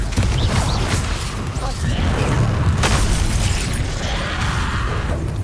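Bombarda and Confringo spell explosions in Hogwarts Legacy during combat, forming a dense, continuous run of booming blasts and crackling bursts at steady high loudness, with a voice calling out over them.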